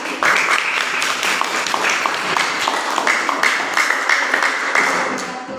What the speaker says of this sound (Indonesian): beri tepuk tangan untuk kelompok berapa?